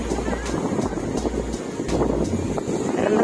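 Morning sea wind at Dingalan, Aurora buffets the microphone in a low, gusty rumble, swelling and fading in irregular pulses with a faint background wash.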